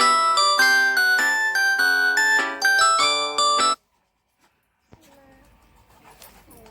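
A mobile phone plays a loud, bright ringtone melody for several seconds, then cuts off abruptly into near silence, followed by faint scattered background sounds.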